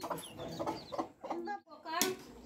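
A rooster and hen in the Konkan give a few short clucks in quick succession, fairly close and not loud, mixed with quiet voices.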